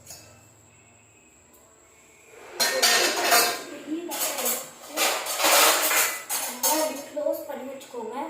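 A plate is set down over a pot of cooking noodles to cover it, with a run of loud metallic clatter and clinks after a quiet start.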